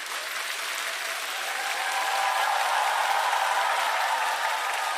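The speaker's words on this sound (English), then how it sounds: "Round of applause for all you bronze publishers." A crowd applauds steadily, a dense wash of many hands clapping that holds for a few seconds and swells slightly toward the end, with no speech over it.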